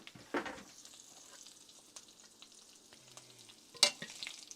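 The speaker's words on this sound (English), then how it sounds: "Now to this, I'm just going to toss in my green beans." Green beans tossed into a hot pan, starting with a sharp burst of sizzle that settles into a quiet, steady frying hiss, followed by another clattering splash near the end.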